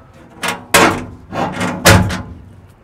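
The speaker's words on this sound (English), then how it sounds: "Little latch opens up the access door." A small latch clicks and the dog access door swings open on a custom Camp King canopy fitted to a Landcruiser 200 Series, giving a few close metallic clunks and thumps in quick succession with no talking.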